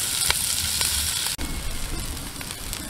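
Sliced onions sautéing in a pan for a beef stew, a steady close sizzle with occasional spoon scrapes and a brief dip midway.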